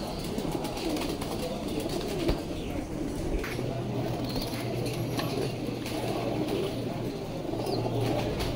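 Newly arrived racing pigeons in a loft coo softly and steadily through a broad, noisy background, low murmuring calls blending together with a faint rustle of movement.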